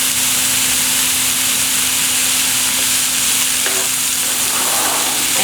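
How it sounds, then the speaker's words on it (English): Mushrooms and red onion sauté in a pan with a loud, unbroken frying hiss close up, a steady sizzle with a faint hum underneath and a slight shift as ingredients settle. "we're going to add into those mushrooms that we're sauteing"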